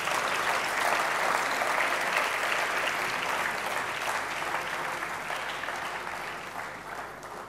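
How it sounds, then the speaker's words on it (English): Big round of audience applause at a science and technology awards ceremony, a dense, loud crowd of clapping hands that holds strong and then slowly tapers off toward the end. "Let's give them a big round of applause."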